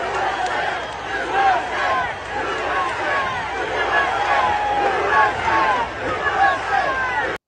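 A large crowd at a Trump rally roars and cheers in a dense, continuous wash of voices, with shouts and whistles rising and falling throughout.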